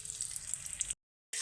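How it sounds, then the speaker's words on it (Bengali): Cashews and raisins fry in hot oil with a close, bright, crackling sizzle that cuts off abruptly into a brief silence and then resumes. "তেল গরম হয়েছে, কাজু কিশমিশগুলো দিয়ে দিলাম"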